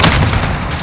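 A grenade explodes in Call of Duty: Modern Warfare, a single loud, close boom with a heavy rumbling low end that rolls off quickly.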